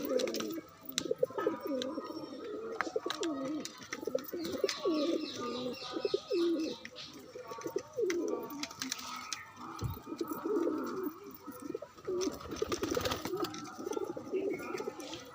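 Several pigeons coo in soft, throaty, rolling calls close by, overlapping one another, with faint chirps and light rustling in the background.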